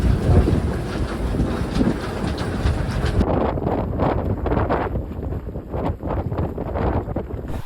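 Steady wind of about 7 knots roars across the microphone while sailing in the British Virgin Islands, a dense low rumble with gusty buffeting throughout, loud and close.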